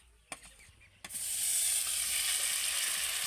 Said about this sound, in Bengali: বাটারটা কড়াইতে দিয়ে দেবো